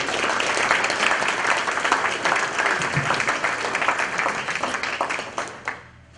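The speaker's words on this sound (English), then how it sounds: "Let's hear a big round of applause for Diane Orton." A big round of applause from a crowd at a community luncheon, dense and sustained for about six seconds before tapering off at the end.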